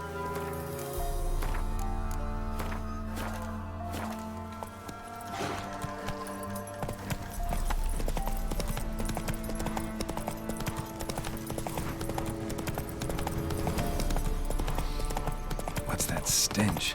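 Horse hooves clip-clop at a steady trot in The Witcher 3: Wild Hunt, a continuous rhythmic beat under game music with occasional speech.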